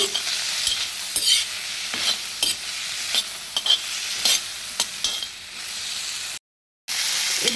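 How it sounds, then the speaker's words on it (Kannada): Cashews fry in a hot pan with a bright sizzle while a spoon stirs and scrapes repeatedly, broken by a brief silence near the end. "ಇದನ್ನು ಹಾಕಿಬಿಟ್ಟು ಚೆನ್ನಾಗಿ ಫ್ರೈ ಮಾಡ್ಕೊಳ್ಳಿ"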